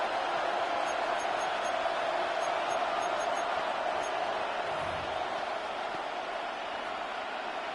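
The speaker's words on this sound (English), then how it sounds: "The noise very loud from the crowd." A dense, steady roar of crowd noise fills an American football stadium, loud and continuous with faint high squeaks above it.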